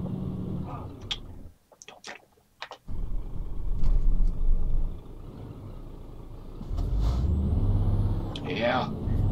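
Truck engine in Euro Truck Simulator 2, a low rumbling drone with an air-brake hiss and a rising whine near the end, heard under frequent talking from a player.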